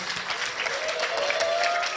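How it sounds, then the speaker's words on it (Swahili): Applause at a county best practice award forum, a short dense burst of many hands clapping in a hall, steady and fairly loud throughout. "Makofi tena."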